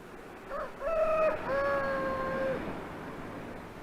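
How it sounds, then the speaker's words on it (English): An old farm rooster crows once outdoors, a clear drawn-out cock-a-doodle-doo rising then holding steady for about two seconds against faint background hiss, fairly close and alone. "when my old rooster out there crows, that means time to get up"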